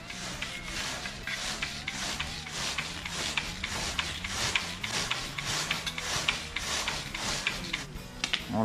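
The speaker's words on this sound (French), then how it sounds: "On peut également utiliser une petite brosse, histoire de enlever juste ce qui pourrait rester accroché." A small brush scrubbing a bicycle chain clean, steady rhythmic bristly rubbing strokes close up and fairly loud, with no speech over it.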